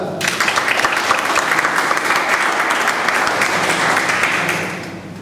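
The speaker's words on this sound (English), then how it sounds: "Please help me welcome the soft-spoken, the down-to-earth Toastmaster Shraddha." An audience at a Toastmasters club meeting applauds to welcome a speaker, steady loud clapping from many hands lasting about five seconds before tapering off.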